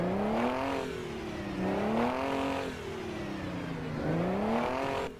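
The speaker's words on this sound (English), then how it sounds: "and then revving" A Detroit Diesel truck engine in American Truck Simulator revs in several rising and falling sweeps, a strong harmonic drone swelling and easing three times, loud and steady with no voices over it.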